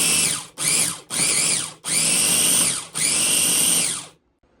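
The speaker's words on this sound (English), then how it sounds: "I'm going to switch it over to my food processor at this point and just finish chopping it up." Food processor chopping fresh herbs and garlic, running in five loud bursts of whirring blade noise with short gaps between pulses, ending in silence.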